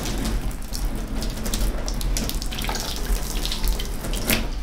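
Hot water is poured over a katana blade to warm it during sashikomi-style polishing, producing a steady close splashing and trickling stream without talk.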